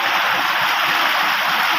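Outdoor stream water rushing continuously, an unbroken nearby hiss and burble with no talking.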